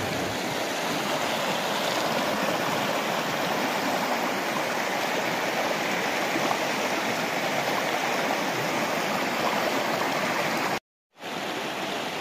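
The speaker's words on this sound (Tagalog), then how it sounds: "ang tubig na umaagos sa ilog na ito" River water in Davao Oriental rushes steadily and loudly, a dense, continuous roar of flowing current with no voices, broken only by a brief gap near the end.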